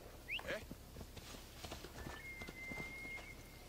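Soft hooves of a horse in Assassin's Creed Odyssey clop along at a walking pace, quiet and a little distant, with a brief whinny and a thin whistling tone in the background.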